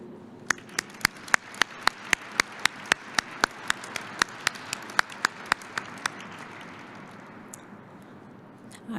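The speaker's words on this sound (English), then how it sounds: "please join me in a round of applause for all the TPS faculty and staff" Applause from a graduation audience at the USAF Test Pilot School honouring faculty and staff, with sharp, steady claps standing out over a dense wash of clapping that fades away toward the end.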